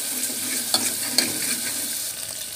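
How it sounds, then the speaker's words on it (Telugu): Ginger paste and onions frying in a curry pan, a steady hiss of sizzling oil with a few sharp stirring scrapes, close and moderately loud, no talking. "కొంచెం అల్లం పేస్ట్ అయితే వేసుకోవాలి."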